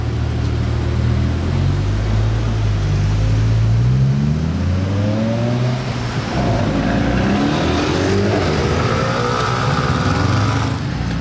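A Lamborghini Huracán Performante and a BMW M6, both with V10 engines, rev hard up close. One loud, continuous engine roar climbs and falls in pitch, with no talking.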